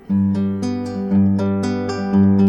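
Acoustic guitar picked in a steady, even pattern, each plucked note ringing into the next with warm sustained chords; no voices.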